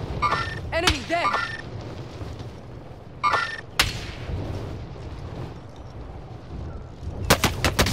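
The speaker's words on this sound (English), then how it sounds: "They're shooting me" Gunfire rings out in Call of Duty: Modern Warfare: sharp shots and short rattling bursts land near the start, in the middle and at the end, over a rumbling battlefield background.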